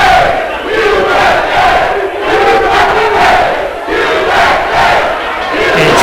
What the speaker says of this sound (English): And the crowd is chanting for USA.